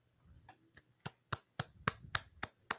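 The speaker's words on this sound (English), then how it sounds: "My man's clapping." A single person claps in a quiet room, about eight sharp, evenly spaced claps that grow slightly louder and quicken a little, close and dry.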